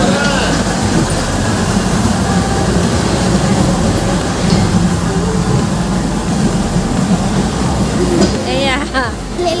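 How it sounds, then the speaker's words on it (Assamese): A ride train at Kalakshetra in Guwahati rolls along with a continuous loud rumble and rattle of the carriages, while people talk and a voice rises near the end. "আমি ৰেলগাড়ীত উঠিলো"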